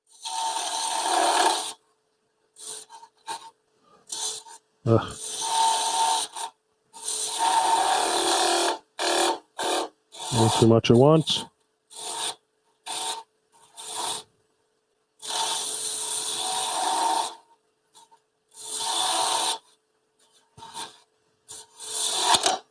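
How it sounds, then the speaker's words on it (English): Wood lathe turning with a skew chisel making light cuts, a broadband rasping, scraping hiss in repeated bursts separated by pauses, fairly close, with a brief spoken remark partway through. "I hope you're hearing the sound of the lathes and the cuts"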